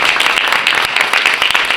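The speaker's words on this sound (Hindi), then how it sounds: "ये सराहना तालियां होनी चाहिए" An audience at a spiritual discourse breaks into loud, dense applause that fills the whole short moment without pause.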